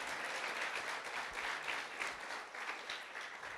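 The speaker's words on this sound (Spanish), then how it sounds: "Dale un aplauso al Creador." A church congregation applauding, steady dense clapping from many hands at a moderate distance, holding evenly throughout.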